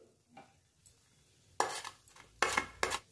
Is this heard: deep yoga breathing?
no